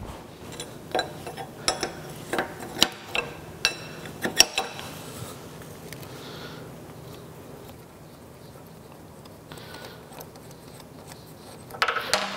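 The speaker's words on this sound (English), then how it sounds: "Let me take that nut off." A wrench works a nut loose on a radial drill's universal table, a quiet run of sharp metallic clicks and ratchet-like ticks at steady intervals, then a pause and a few scraping clanks.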